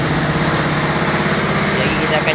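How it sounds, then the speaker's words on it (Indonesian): A small engine on a grass chopper machine at a cattle shed in Malaysia warms up, a steady close, loud droning buzz with a faint rhythmic flutter. "Jadi saya tengah panaskan enjin mesin chopper saya."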